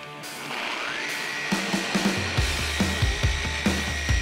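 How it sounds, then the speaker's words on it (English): A car polisher whirs steadily as it buffs the paint on a Toyota 4Runner, with a sustained motor whine and a series of rhythmic low thumps as the pad moves across the panel. "You don't have to use this exact polisher."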